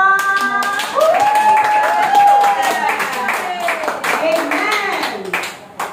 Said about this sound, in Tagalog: Maraming palakpak.